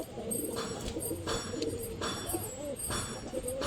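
A pigeon in a loft coos in several low, throaty bursts spaced through the clip, close by, with faint rustling and other birds in the background.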